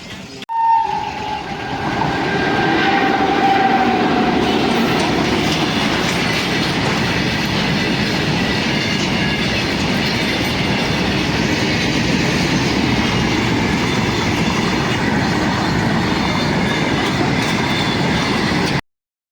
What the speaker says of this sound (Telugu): అక్కడ నుంచి అయితే ట్రైన్ వెళ్ళిపోతున్నది.